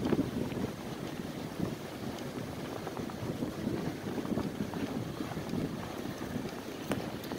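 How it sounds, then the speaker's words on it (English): Cold wind blowing in off a bay during the year's first heavy snow, a constant loud rushing roar buffeting the microphone with no voices. "The way the wind's whipping up, probably hard to hear me."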